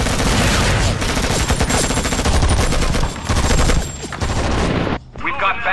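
Gunfire in the PC game Act of War: Direct Action, sustained loud bursts of rapid machine-gun fire and overlapping shots filling the scene, briefly dropping off near the end, with voices shouting beneath.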